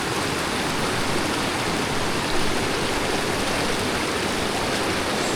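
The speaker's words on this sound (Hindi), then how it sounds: "जो पानी की एक तगड़ी स्ट्रीम है जो आपको क्रॉस करके जानी पड़ती है" A strong mountain stream near Dudipatsar Lake in Pakistan rushes steadily and loudly, a dense, unbroken roar of flowing water with no voices.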